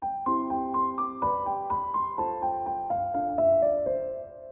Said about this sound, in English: This part down here is the background that adds support to the melody.